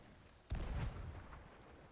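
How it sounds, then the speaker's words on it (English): Video game gunfire, a single heavy booming shot with a rumbling tail that fades over about a second, faint and somewhat distant. "Still shooting."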